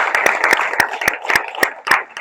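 Students in Pinapalla village clap hard together after a meditation session, producing a loud, uneven burst of many hands slapping in quick succession, close and lively.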